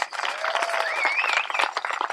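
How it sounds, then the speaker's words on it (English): Crowd at an outdoor Bans Off My Body rally in Benicia, California applauding the organizers, a dense sustained wash of clapping with scattered whoops and shouts running through the whole stretch. "So just another round of applause,"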